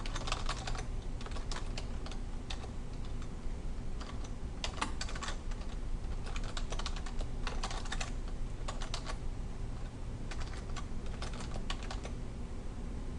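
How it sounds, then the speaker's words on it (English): Steady typing on a computer keyboard while entering a bulleted list in Word, with quick bursts of key clicks and brief pauses, close and clear with no talking. "So now we'll start typing."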